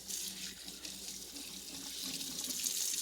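A kitchen tap runs steadily while hands are washed under it during a jerk chicken canning session, a soft continuous water rush with slight splashing changes, fairly quiet and alone.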